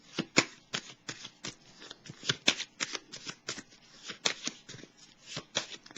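Tarot cards being shuffled by hand, a rapid run of crisp riffling flutters and sharp slaps in an irregular rhythm, close and moderately loud with no voices.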